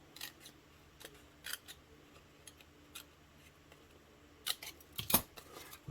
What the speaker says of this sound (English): Just going to cut up each one of those score lines to that first score line.